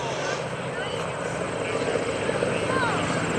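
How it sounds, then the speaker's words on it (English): An aerobatic airplane on its takeoff roll at the 2012 Greenwood Lake airshow, a loud steady propeller engine drone with a rising whine, constant and close, with a commentator talking over it. "Here's Kevin Russo on the takeoff roll"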